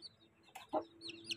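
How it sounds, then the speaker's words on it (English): Newly hatched chicks from a brood of eight give a few soft, faint clucks and chirps, scattered and brief in a quiet setting. "our bird had hatched 8 babies"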